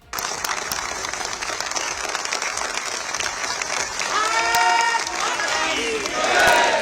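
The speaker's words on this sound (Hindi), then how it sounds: "उस वक्त पूरा हॉल तालियों की गड़गड़ाहट से गूंजता रहा।" A hall full of members of parliament applauds the Prime Minister with sustained, thunderous clapping, building louder partway through, with shouts and cheers rising over the din.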